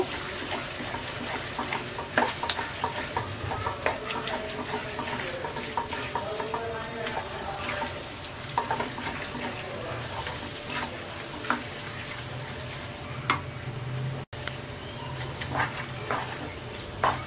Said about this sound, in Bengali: এবার আমড়াটাকে আমরা 5 মিনিট কষিয়ে নেব।